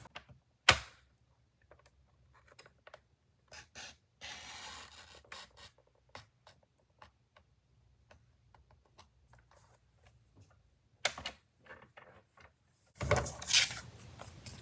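Paper being cut for a bookmark card with a craft trimmer or blade, a sharp crisp swipe at the start and more near the end, with light scratchy handling sounds between.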